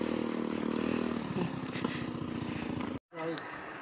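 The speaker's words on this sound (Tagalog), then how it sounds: "Naririnig ko na po yung niya, boses ng motor." A motorcycle engine approaches with a rising, sputtering drone, then cuts off abruptly before a short burst of other sound near the end.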